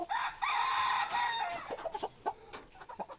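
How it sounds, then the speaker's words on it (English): A farm chicken in Tennessee calls close to the listener, a long drawn-out cry followed by a run of short, quick clucks, with no talking. "I trained this chicken to come to my arm."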